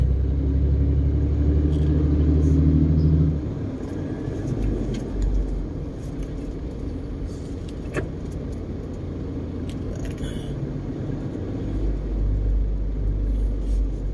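Heavy traffic with trucks, buses and sedans on EDSA road gives a steady low rumble, louder at first and near the end, with faint clicks and rattles on top.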